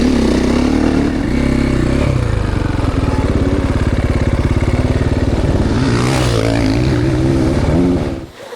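Triumph TF450C four-stroke 450 motocross bike ridden hard through a section, its loud continuous engine note surging and revving throughout, with a sharp shift around the middle before the sound drops away at the end.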